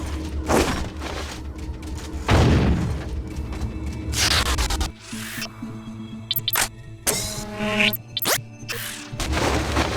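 Heavy booms and crashing blasts from grenade explosions in the video game Deus Ex: Invisible War, several loud detonations with shattering debris and thuds in quick succession.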